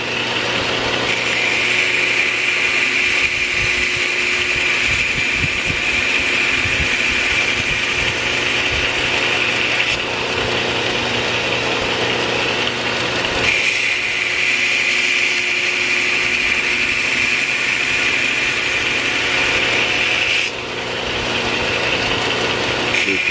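A bench grinder works the primary bevel of an LS1 survival knife blade in steady continuous passes, a loud constant whir with a bright sustained tone that dips briefly between passes, with no talking.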